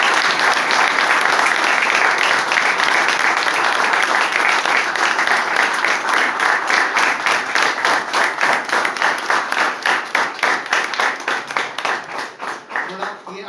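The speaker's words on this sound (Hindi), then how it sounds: "मैंने पहले तो उसके लिए जोरदार तालियां।" A roomful of people at a rehab centre applauds loudly for a recovery birthday, dense clapping that gradually thins into a slower, rhythmic unison clap before fading.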